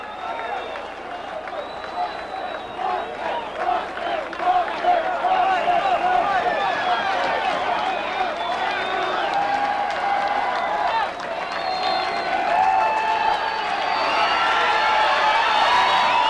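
Boxing arena crowd at the Resorts International Theater applauding and cheering for Mike Rossman, a dense, sustained roar of clapping and shouts that swells and stays loud throughout.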